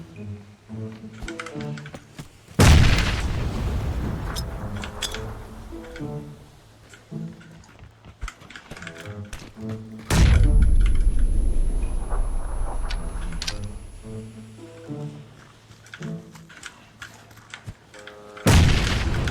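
Grenade blasts in the video game PUBG Battlegrounds, three sudden loud booms with long rumbling tails, separated by stretches of quieter in-game clicking and movement sounds.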